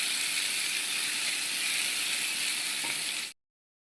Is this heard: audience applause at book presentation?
no